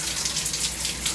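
Shower water running in a cold tour-life bathroom, a steady close rushing spray with no talking.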